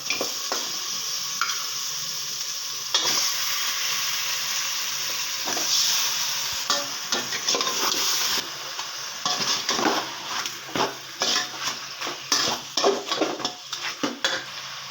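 Chicken sizzling and frying in masala in a pan, with steady hissing and intermittent stirring scrapes and clinks of a utensil, close by.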